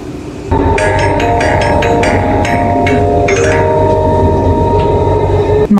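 An electric train in a Roblox railway game runs with a steady motor hum and a series of rhythmic clicking wheel beats over the rail joints, loud and continuous until it cuts off at the end.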